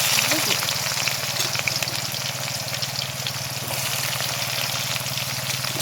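Chopped onions hit hot oil in a pan with sugar already melted in it, giving a dense, continuous hiss of frying that stays fairly even throughout, close and moderately loud.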